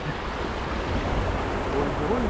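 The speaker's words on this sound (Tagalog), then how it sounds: "Tapos dito, ilog na naman ulit." River water flowing in a steady, close rushing wash that continues without break, with faint voices partly mixed in.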